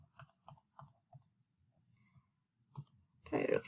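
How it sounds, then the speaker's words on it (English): Numbers are tapped into a handheld calculator in a rapid series of light plastic button clicks, close and quiet, ending in a brief burst of louder handling noise. "Type that into a calculator."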